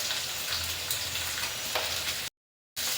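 Fish fries in a pan with a steady, close, crackling sizzle, broken only by a short gap of silence near the end.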